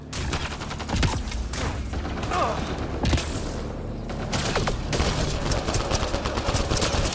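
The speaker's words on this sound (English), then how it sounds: "You're getting shot at!" Rapid bursts of video-game gunfire crackle through a science-fiction firefight, dense and continuous across the clip with mechanical clatter and scattered sharp shots.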